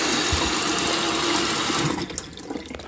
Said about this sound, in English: I'm going to put this water in a bowl. I'm going to fill it up